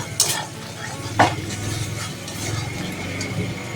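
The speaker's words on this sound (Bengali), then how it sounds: "এবার আমি এটাকে মশলাটাকে সুন্দর করে কষিয়ে নেব" Spice masala is stir-fried in a pan, giving a soft continuous sizzle with a few sharp scrapes and clinks of a metal spatula against the pan.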